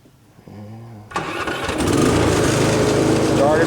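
A Weed Eater One riding mower engine cranks and catches after a brief quiet moment with a low hum, then settles into a loud, steady, slightly rough running drone close by.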